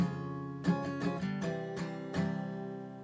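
Acoustic guitar chords strummed in a loose rhythm, several sharp strokes ringing out and sustaining, played close with no voices.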